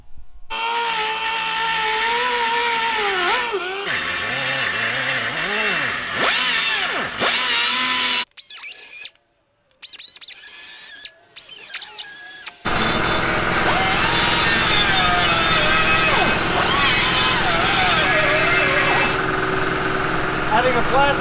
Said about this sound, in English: We're just notching this out to kind of avoid a gusset.